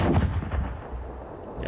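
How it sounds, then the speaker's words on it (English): Tank cannon fire in a tank simulator video game: a heavy, booming shot with a deep rumbling tail, followed by a quieter second report, then a lingering low roar and distant hiss. "Definitely hear our friends firing here"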